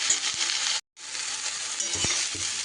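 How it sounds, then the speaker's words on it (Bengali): Vegetables fry and sizzle in a pan with a steady bright hiss, briefly cut off once, then resuming with a few soft stirring knocks; no talking. "একটু সময়ের জন্য আমি নাড়াচাড়া করে নেব"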